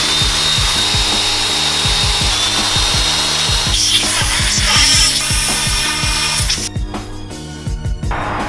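An engine block's cylinders are honed with a power-driven hone, giving a continuous loud machine whine and abrasive grinding with a steady pulsing beat, easing briefly near the end.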